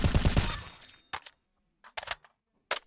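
Rifle spray in Counter-Strike: Global Offensive, a fast rhythmic burst of close, loud gunshots lasting about half a second and fading out, followed by a few short, sharp clicks and taps.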